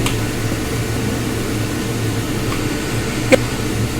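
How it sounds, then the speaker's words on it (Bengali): A mixer grinder whirs steadily, blending cooked onion and tomato into a paste as a constant, fairly loud motor drone with a single brief knock near the end. "এবার এটা কিন্তু মিক্সিতে দিয়ে আমরা পেস্ট করে নেব।"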